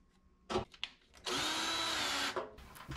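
A power nut driver with a quarter inch bit runs for about a second, driving a screw to reattach a dryer's thermal cutoff, a loud close whir framed by short clicks and handling knocks.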